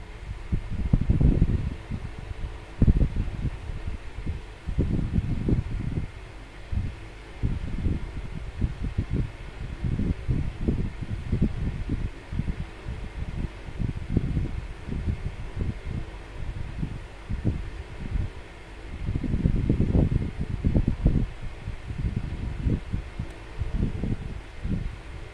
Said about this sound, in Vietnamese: Thôi mình bị bật cái quạt đi, nóng lắm.